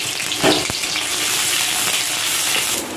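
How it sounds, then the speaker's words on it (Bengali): Chopped onions hitting hot oil in a hill village kitchen pan, giving a steady, close, loud frying sizzle that runs throughout with a brief burst of crackle near the start. "তেল গরম হয়ে গেছে, দিয়ে দেব পেঁয়াজ কুচি।"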